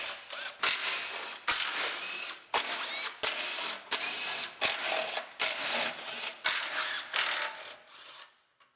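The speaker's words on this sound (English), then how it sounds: "we can start unbolting our headlight mounting panel" Wrenching loose the bolts on the headlight mounting panel of a 2019 GMC Sierra Denali 2500HD Duramax, heard as close, loud bursts of ratcheting clicks in short runs with brief pauses between them, and no talk.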